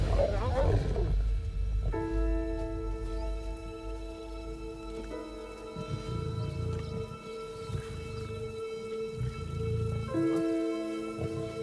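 Lions in the Serengeti give deep, rumbling roars and moaning calls that rise and fall at a moderate distance over a low wild outdoor background, with a tonal moan holding for several seconds.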